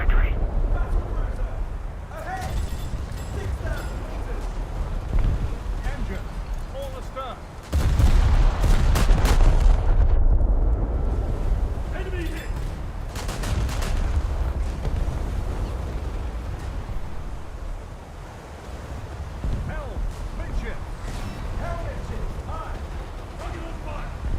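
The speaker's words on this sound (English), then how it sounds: "So more shooting at this Italian battleship instead." Naval guns firing at an Italian battleship in World of Warships, heavy booming salvos with a loud rumbling peak midway through, over a constant battle din while someone talks throughout.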